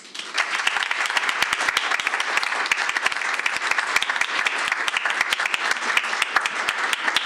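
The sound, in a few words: applause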